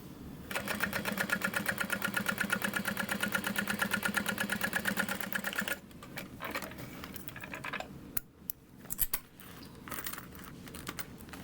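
A sewing machine stitches across a bag lining seam 1/8 inch into the seam allowance, running in a fast, even rattling stream for about five seconds before stopping, then soft handling clicks and rustles follow.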